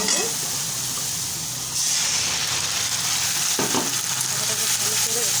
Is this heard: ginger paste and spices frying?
yes